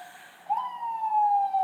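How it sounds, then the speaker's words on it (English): A wailing emergency siren on a Harlem street, one tone rising and holding steady, clear above a quiet background. "I apologize for the sirens. I live in Harlem"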